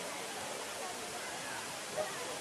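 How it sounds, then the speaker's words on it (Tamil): Jhari Falls waterfall at Chikmagalur sends a continuous, even wash of rushing water, with no breaks or pulses, steady and moderately distant. "ஜாரி ஃபால்ஸ்ல தண்ணி வேற லெவல்ல வருது"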